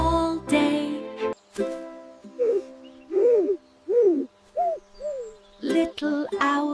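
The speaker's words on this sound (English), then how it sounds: "Little owl says" Owl hooting in a gentle night setting: a series of four or five soft, rounded hoots in steady rhythm, set between stretches of calm spoken narration.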